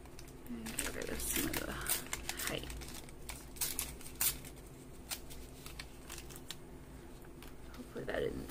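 Paper is crumpled up by hand for an altered-book junk journal collage, giving quiet, close crinkling bursts in uneven clusters.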